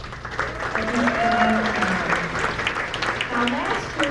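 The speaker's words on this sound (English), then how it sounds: "if we could again give the folks that have organized this event a big round of applause" An audience at a community kindness event claps together in a sustained, dense round of applause lasting a few seconds, with a voice faintly audible over it.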